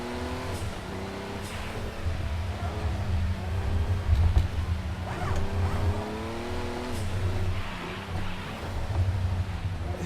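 A Group 5 racing car in a video game, its engine droning and revving steadily with rising and falling pitch, tire noise mixed in. The engine sound holds continuously throughout.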